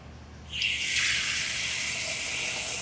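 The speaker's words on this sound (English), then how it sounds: "We're gonna add some water" Tap water gushes steadily into a pot being filled to boil eggs for a Nigerian soup, starting abruptly after a quiet half-second and running loud and continuous to the end.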